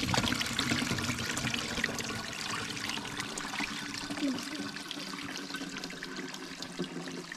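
Water streaming and splashing steadily from a bamboo pipe, a continuous trickling flow with a faint outdoor background.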